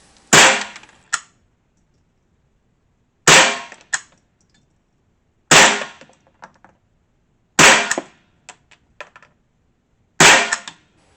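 Stevens Model 87A .22 rifle firing CCI Mini-Mag rounds, five sharp nearby shots spaced a few seconds apart, each followed by short metallic clicks of the action, with no talking.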